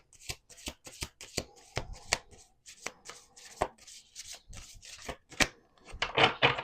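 Cards are shuffled and pulled close up, with quick riffling bursts, soft slides and sharp snaps in an uneven rhythm.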